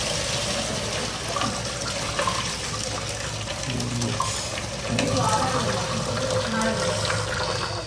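Water from 70% cooked rice drains through a strainer while making chicken dum biryani at home, a continuous splashing pour with a voice talking over it.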